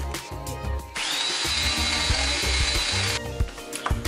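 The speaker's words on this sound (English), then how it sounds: "That one was with a 50 grit on the detail sander." A detail sander with 50-grit paper grinds on wood in one loud, steady burst of about two seconds, with light knocks and handling noises before and after.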